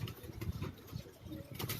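Pigeons on a Karachi rooftop coo softly and flutter while being caught, several low murmuring calls and brief wing flaps close by against a faint background hum.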